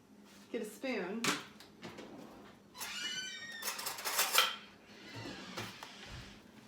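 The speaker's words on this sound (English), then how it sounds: "Actually, let me get a spoon." Metal cutlery clinks and rattles as a spoon is pulled from a kitchen drawer, a few sharp scattered clatters mixed with other kitchen noise, close by.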